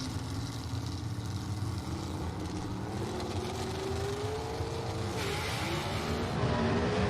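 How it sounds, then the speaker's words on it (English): The Silver Streak Corvette gasser roars down the strip at Mt. Olive Dragway, a loud, sustained engine howl that holds steady and rises slightly near the end. "Silver Streak Corvette of Kenneth Phillips"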